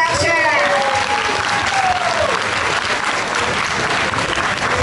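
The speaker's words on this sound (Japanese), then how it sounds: "ステージさんに大きな拍手" Loud, dense applause from an audience at an anime-song dance event, sustained throughout with cheering voices and whistles rising over the clapping.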